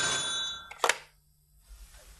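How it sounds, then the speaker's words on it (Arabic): A household telephone bell rings indoors at the start, followed by a brief clatter and then near silence, with no one talking. "ايوه ايوه ده التليفون."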